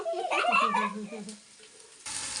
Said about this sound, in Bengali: গাজরটা একটু সুন্দর করে ভাইজে নেব।